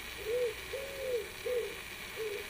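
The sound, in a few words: pigeon cooing in the background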